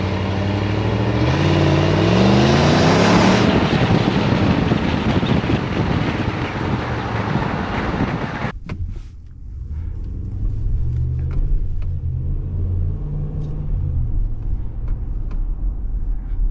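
A base-model Ram 1500 Classic pickup's engine roars under acceleration with rising exhaust tone, heard from inside, then drops after a shift into a deeper, steady rumble with wind noise.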